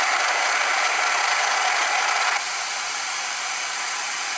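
A hair dryer blows with a steady, even whoosh of air, its tone dropping slightly to a softer setting partway through.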